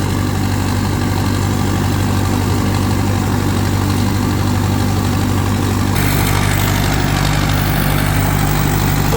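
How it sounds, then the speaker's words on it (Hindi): Mahindra 585 XP Plus turbo tractor engine running at around 1600 rpm: a loud, close, steady diesel drone with a deep low rumble and constant vibration, with no talk. "मात्र 1600 चक्करों पे ट्रैक्टर चल रहा है"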